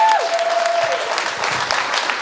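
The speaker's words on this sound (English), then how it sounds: "I also would love a round of applause for Emma." Audience applause for the organiser of a motorsports book launch and panel event, a steady dense wash of clapping sustained throughout with a faint tone briefly over it.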